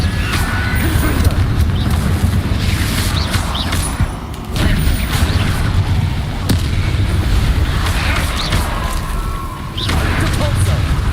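Repeated Confringo blasting spell explosions in Hogwarts Legacy, loud booming bursts and crackling impacts in a dense, noisy combat mix with talk present throughout.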